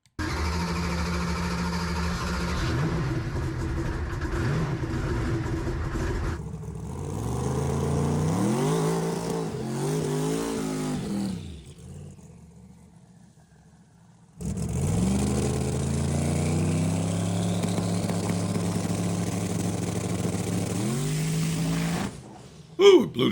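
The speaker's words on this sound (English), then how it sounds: "Ooh, it blew the tires right away." A 5000 hp drag race car launches with a loud engine roar and rising revs, its tires spinning loose right away; a second loud run follows after a brief lull, with no one talking over it.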